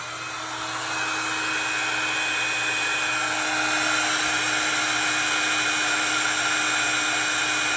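A heat tool blows hot air to melt white embossing powder on a crafting piece, a loud, steady, close whirring roar of fan and air that holds unchanged throughout.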